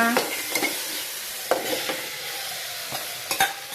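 Ginger garlic paste frying in a pan for a curry of ivy gourd, a steady close sizzle with a few scraping stirs and light clinks of the spoon against the pan.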